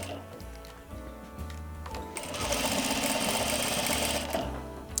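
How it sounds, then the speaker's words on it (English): A sewing machine backstitches a seam on a reusable fabric gift bag: a few short, halting stitch bursts build into a steady, faster whir of close mechanical clatter, with no one speaking. "you do need to backstitch here because this is where the most pressure is placed on a bag"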